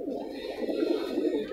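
Pigeons on a Ludhiana rooftop give a brief, soft run of low cooing, faint and steady for a moment.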